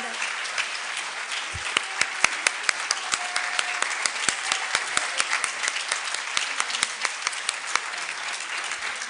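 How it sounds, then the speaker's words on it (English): Scattered audience applause at a high school science day event, sparse individual claps growing denser into steady clapping of a modest crowd, heard from a moderate distance. "can I please have a round of applause for the people who started?"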